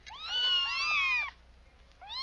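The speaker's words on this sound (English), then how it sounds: "Kittens." Kittens meow close by in two loud, rising and falling cries, the first long and wavering, the second starting after a short pause.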